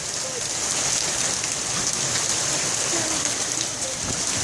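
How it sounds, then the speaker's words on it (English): Hailstorm in Toronto pelting the ground and a pond, a dense, steady patter of ice pellets with scattered louder plops on water, continuous and fairly close. "there's getting quite a pile of hail here"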